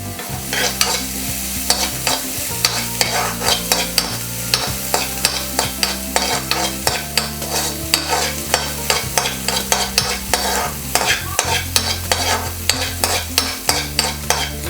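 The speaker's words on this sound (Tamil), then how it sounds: "ஆனியன் கொஞ்சம் நல்லா வதக்கிக்கலாம்." Half a large onion sautéing in a pan, with a steady sizzle and frequent rhythmic scraping and clinking of a spoon stirring against the pan, close and loud throughout.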